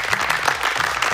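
Steady, dense clapping from a group of schoolchildren during a Yoruba children's game show, loud and continuous throughout the short burst, with no voices over it.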